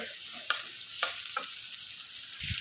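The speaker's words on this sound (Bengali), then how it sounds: "এখন তেলের মধ্যে পেঁয়াজটা দিয়ে দিলাম মাছের এটা ডিমগুলা ভাজবো" Onion frying in hot oil before fish roe is added, a steady close sizzle with a few sharp scraping stirs of a utensil in the pan.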